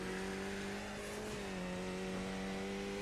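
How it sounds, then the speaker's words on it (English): Skip Barber race car engine at Zolder in iRacing: a steady, sustained engine drone holding a constant pitch with a slight dip midway, continuous and fairly loud, with no talk. "Car sounds a little bit quiet here."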